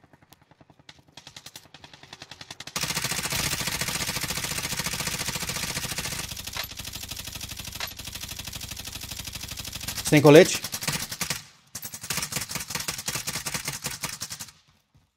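Rapid bursts of automatic gunfire in Call of Duty: Warzone crackle almost continuously, with a louder clattering burst near the end, while a voice speaks briefly over the shooting.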